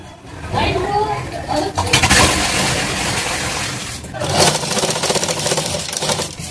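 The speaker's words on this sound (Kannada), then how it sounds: "ಸ್ವಲ್ಪ ಹಿಡಿದು ಸ್ಟಿಚ್ ಮಾಡ್ಕೊರಿ." A sewing machine runs in fast bursts stitching the shoulder of a blouse, with a brief pause midway, close and fairly loud, while someone talks over it.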